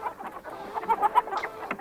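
A chicken clucks in a barn scene from the 2020 horror film Honeydew, giving a run of short, choppy, mid-pitched clucks at moderate volume with no talking.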